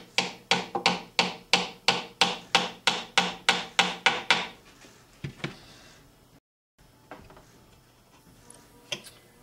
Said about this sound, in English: The jig is going to go inside the rim hole, and then we're going to give it a little tap.